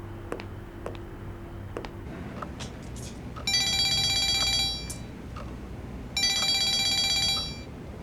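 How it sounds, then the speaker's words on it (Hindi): An electronic telephone ring sounds in two bursts of rapid trilling, each lasting about a second or more, with quiet room noise and faint clicks between them. "मैं जरा ज़ैनब को फोन कर लूं"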